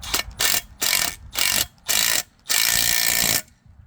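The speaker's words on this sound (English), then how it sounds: "And I'm torquing them down to 2 Ugga-Duggas." A hand ratchet tightening 13 mm bolt heads on trailer equipment racks, fired in quick bursts of rapid clicking separated by short pauses, ending with one longer run of clicks, close and loud.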